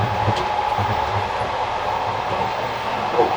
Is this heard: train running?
yes